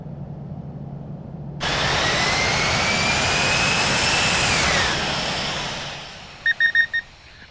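A JetBlue airliner's jet engine in the Infinite Flight simulator spools up from a low rumble into a loud, sustained roar with a rising whine, then eases off. A few short electronic beeps follow at the end.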